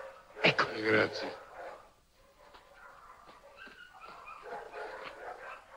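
A dog gives a couple of sharp, close barks at the start, followed by people talking.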